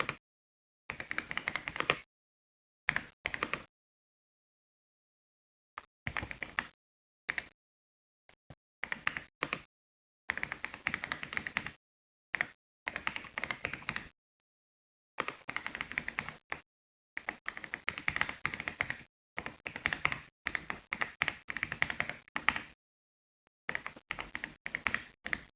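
Bursts of fast typing on a computer keyboard, close and clear, coming in uneven runs separated by short silent pauses, with no talking.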